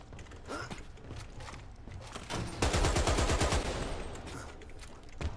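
Weapon reloading in the shooter game Dirty Bomb: mechanical clicks and clacks, then a loud rapid burst of ratcheting metallic action in the middle, with no talk over it.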